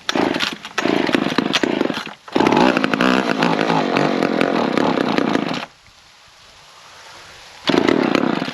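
An old McCulloch 10-10 or Pro Mac 55 chainsaw runs close by, its engine snarling loudly in repeated revving bursts, dropping briefly to a low idle before roaring up again.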